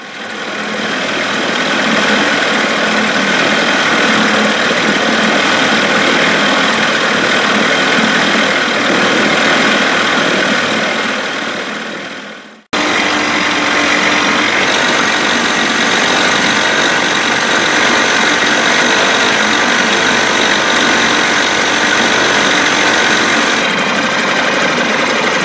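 A small single-cylinder two-stroke outboard motor, a 3.3 hp Evinrude, runs steadily with its water pump working, giving a loud, continuous buzzing drone that cuts out briefly midway and then resumes at full strength.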